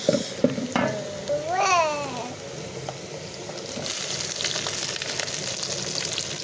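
Cabbage dropped into a hot pan in a village kitchen, then frying and stirred, a burst of sizzling with scraping at the start settling into steady close crackle.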